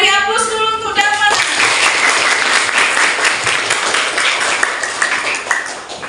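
A classroom of pupils bursts into loud, sustained applause for a pupil named Dharma after a short tonal chime. The clapping is dense and close and fades gradually toward the end.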